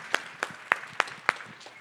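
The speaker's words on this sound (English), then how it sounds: "Let's give John another round of applause" A small conference audience gives a speaker a short round of applause, about six distinct sharp claps in a loose, quick rhythm, close and fairly quiet, with no talk.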